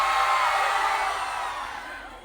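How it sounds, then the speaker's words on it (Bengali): A crowd of students at a student fest in Debidwar yells together as loudly as they can, a dense, sustained roar of voices that slowly fades. "এবার তোমরা কত জোরে চিল্লাইতে পারো দেখি তো"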